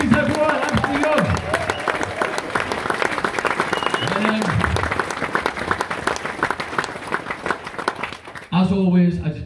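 Audience applause at a live comedy show for a comedian, sustained clapping from a room crowd with voices mixed in, ending with a host's voice speaking over it.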